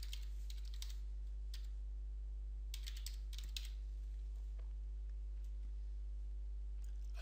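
Soft clicks from a computer keyboard as a chapter name is typed, in short irregular bursts over a steady low electrical hum, faint and close, with no talking.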